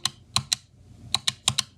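Xbox controller buttons give sharp, crisp clicks in irregular pairs and short bursts, close up and isolated, with no talk.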